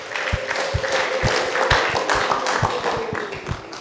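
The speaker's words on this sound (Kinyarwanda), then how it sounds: "Duhe Imana amashyi n'impundu kubw'ijambo ryayo." Wedding guests clapping in a steady, rhythmic beat of sharp claps, with a sustained high ululating cry running over them through most of the stretch, loud and close.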